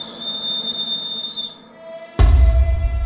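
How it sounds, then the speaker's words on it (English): A sustained high finger whistle from an animated Halloween horror story rings out steadily, then breaks off, followed by a sudden loud low rumbling burst and a lingering tone. "Nora put her finger to her mouth and whistled."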